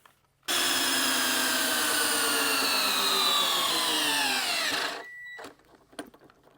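A brushless DeWalt right angle drill spins up abruptly and whines at a steady, loud pitch for about four and a half seconds, then slows to a stop, followed by a few faint clicks.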